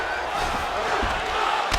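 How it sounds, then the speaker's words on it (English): Arena crowd noise from a UFC 5 video game fight, a steady loud roar with a few sharp impact thumps. "the crowd continues to react with every passing land"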